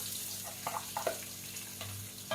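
Finely chopped garlic frying in a pan for a seafood aglio olio gives a soft, continuous sizzle with small bubbling pops and light stirring, close and unaccompanied by talk.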